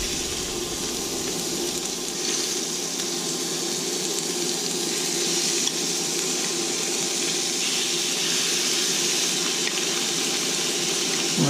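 A steady, close hiss of turkey cooking in a pan with a cooked-down pepper mixture, broadband and even throughout, with no talking.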